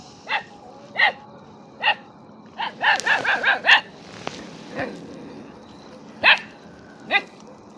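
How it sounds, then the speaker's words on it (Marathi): Dogs bark in short sharp bursts, single barks at first, then a rapid cluster of several, then a few more spaced barks, fairly close and loud. "बाहेरच्या कुत्र्यांना हे लांबूनच बघून भुकायला सुरुवात केलेली आहे"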